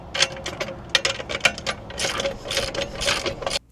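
A ratchet driving a deep well socket clicks rapidly in uneven bursts while tightening a nut on a bike rack, the metallic ticking close and fairly loud before stopping abruptly.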